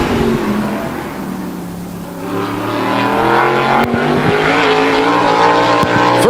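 A modified race car roars through a qualifying lap at Wall Stadium, engine loud and revving hard as it passes, with the pitch climbing under acceleration and faint crowd or track noise behind.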